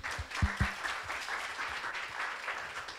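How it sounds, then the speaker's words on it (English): Audience at a Philippine space technology showcase applauds steadily for an incoming speaker, a dense patter of clapping with a few louder thumps early on, moderately close and fairly even throughout. "So please help us welcome with a round of applause, Dr. Joel Joseph Marciano Jr."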